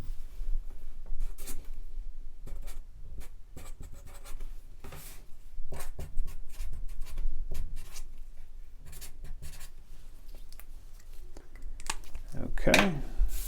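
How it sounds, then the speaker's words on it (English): A pen scratches out a name on a sticky note in short, quiet bursts of strokes with small pauses. Light handling noises sit in between, and a voice is faintly present. "put a sticky note on the back that includes your name so that they know, whose card is whose"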